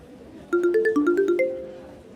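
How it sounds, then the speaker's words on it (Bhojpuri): A mobile phone ringtone plays a bright melody of about nine short, evenly spaced chiming tones in a quick rising-and-falling pattern, loud and close, then fades out. No one speaks. "माँ का फोन है"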